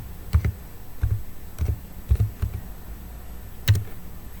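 A computer keyboard is tapped in several quick, close clicks with small gaps between them while a web address is typed into a browser.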